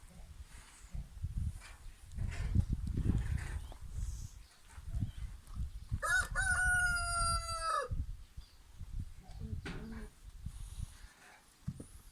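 A rooster crows once, fairly close, in a village, over a low rumbling background with faint scattered noises and no clear speech.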